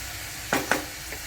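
Green peas and curry leaves sizzle softly in a hot pan under a steady low frying hiss, with two quick scraping stirs close by and a fainter third one after.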